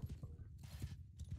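Horse hooves clip-clop in the medieval combat game Mount & Blade II: Bannerlord, a quick steady gallop rhythm of repeated thuds, fairly faint and continuous with no speech.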